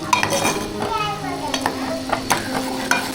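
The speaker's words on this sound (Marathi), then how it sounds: "हा मसाला कच्चा आहे तर तेलामध्ये थोडंसं शिजवून घेऊया आपण" Raw masala with tomatoes cooks in oil in a pan, sizzling close by while a spoon stirs and taps against the metal in irregular clinks.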